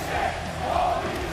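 A crowd cheers in the WWE 2K wrestling game during a pay-per-view show, a steady roar of arena noise throughout.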